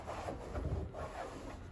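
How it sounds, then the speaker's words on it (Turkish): Cloth wiping across plastic interior trim of a car during detailing, a soft continuous rubbing with gentle strokes swelling and fading, close and fairly quiet, no talking. "Şimdi hızlı bir şekilde ben siliyorum."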